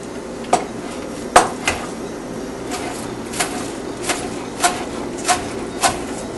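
A knife chops rolled-up basil on a cutting board in a chiffonade cut, making about ten crisp, evenly spaced taps that are close and fairly loud over a quiet kitchen background.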